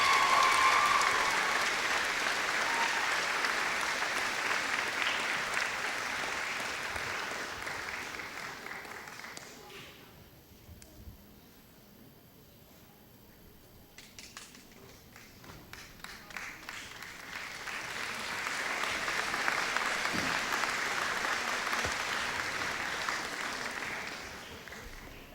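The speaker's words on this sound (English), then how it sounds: "give them a well-deserved round of applause." A graduation audience applauds the class advisors, a loud wash of many hands clapping that fades to a quieter lull in the middle before swelling again, with some voices mixed in.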